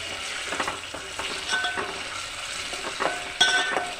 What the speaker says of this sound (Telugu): ఉల్లిగడ్డ ఉడికింది కదా, దీంట్లో ఇప్పుడు అల్లం వెల్లుల్లిపాయ పేస్ట్ వేసుకొని